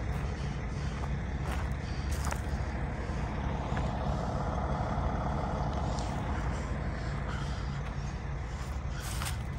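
A 2022 Peterbilt 567 truck with a Cummins ISX15 diesel engine idles nearby, a steady low rumble with broadband hiss and a few faint clicks, no talk.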